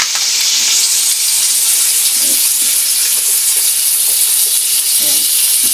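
Pork frying in its own rendered fat, a steady, loud sizzle and crackle throughout with a few faint scrapes of utensils beneath.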